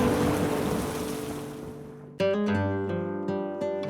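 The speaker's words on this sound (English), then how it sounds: "The rain began to fall and the thunder began to roar." Heavy rain hisses steadily, then after about two seconds a loud, sudden crash with a rolling tonal tail follows, like thunder in a storm.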